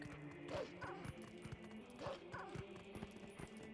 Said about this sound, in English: And we're a wolf. Bark, bark.